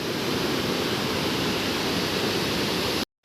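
A flood-swollen stream rushing at Sukute Beach makes a loud, steady roar of churning water that continues without a break, then cuts off abruptly near the end.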